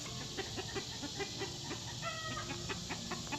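Chickens cluck intermittently in a backyard garden, moderately distant and fairly quiet, short clucks repeating over a constant background hum.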